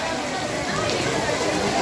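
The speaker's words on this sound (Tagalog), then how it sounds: "Napakalakas ng ulan oh." Heavy rain pours in a dense, steady hiss that stays loud and constant from start to finish, with no clear break.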